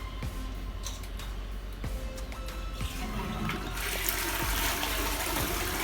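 A DIY hands-free toilet flush triggered by a motion-sensor switch and motor, with small mechanical clicks and ticks, then the rushing swell of the flush building and roaring on to the end.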